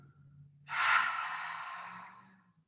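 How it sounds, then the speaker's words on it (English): A single deep exhale pushed out through open lips during a yin yoga class, a soft broad breathy rush that rises sharply and then slowly tapers off over about two seconds, close to the microphone with a low hum beneath. "Let's inhale through the nose. And then open the lips to exhale."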